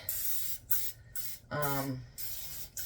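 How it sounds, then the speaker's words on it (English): Several short bursts of cooking spray hiss close by as it coats a bundt cake pan, separated by brief pauses, with a faint low hum and a soft clatter in the background. "I make sure I spray all the way around the center first, and I coat it good."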